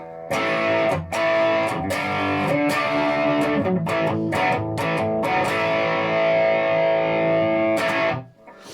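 Heavily distorted electric guitar chords through a Marshall Guv'nor GV-2 distortion pedal with gain raised, ringing out with high gain, a few sharp strums and sustained crunchy tones before fading out.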